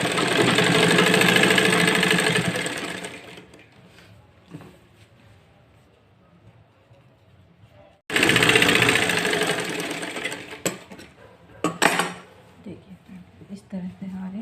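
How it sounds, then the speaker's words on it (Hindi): A sewing machine runs in two loud bursts stitching around the curved neckline edge of a designer kurti, with quieter handling and rustling between them. "अब इस तरह पलट कर हम ऐसे किनारे पे गोलाई पे सिलाई चला देंगे।"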